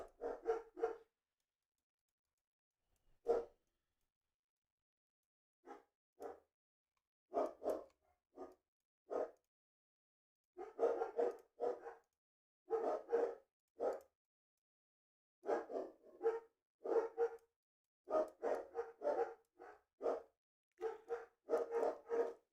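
Dogs bark in irregular bursts across the whole stretch, sometimes several rapid barks clustered together, fairly close and moderately loud, with quiet gaps between the volleys.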